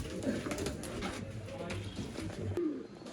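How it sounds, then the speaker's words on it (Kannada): Rolling pigeons coo steadily in a loft, low throaty calls repeating close by under someone talking. "ಈ ರೋಲಿಂಗ್ ಅಕ್ಕಿ ಸೂಪರ್ ಆಗಿದೆ."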